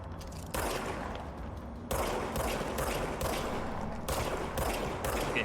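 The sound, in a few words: gunfire in the video game Control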